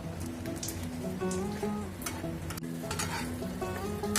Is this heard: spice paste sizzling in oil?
yes